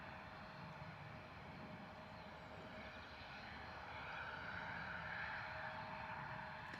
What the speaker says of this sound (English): KLM Embraer 175 turning on to taxiway Zulu 4